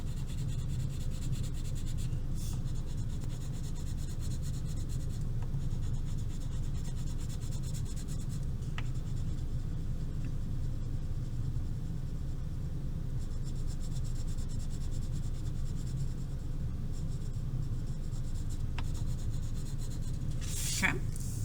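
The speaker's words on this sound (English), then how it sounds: "Coloring neatly, coloring lightly, staying in the lines and filling up the whole space." Crayon or pencil coloring on paper in a kindergarten lesson, a soft continuous scratchy rubbing with faint strokes and occasional light taps, steady and close throughout.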